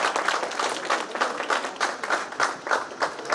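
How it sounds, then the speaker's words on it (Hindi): Audience at a founding-day and awards ceremony in Udaipur clapping to welcome the chief medical and health officer on stage, a dense sustained burst of applause from a crowd. "मैं चाहूँगा कि आप जोरदार तालियों से स्वागत करें"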